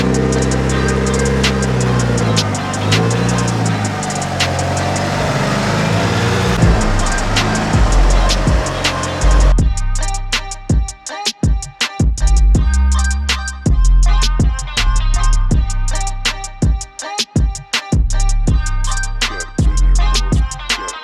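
A Mitsubishi Evo engine runs on a dyno in a shop, loud and continuous, building for several seconds before the sound turns choppier with rapid bursts and gaps.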